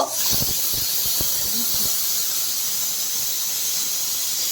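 Pressure cooker steam whistle while moong dal cooks, a sustained loud high hiss and squeal throughout, with brief clatters and faint kitchen sounds at the start.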